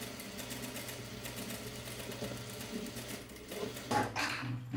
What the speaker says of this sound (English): So we just sew the waist dart and the side dart together